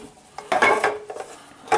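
Diced tomato drops into a cooking pot with a few soft clatters and clinks of utensil against metal, close and fairly quiet, no talking.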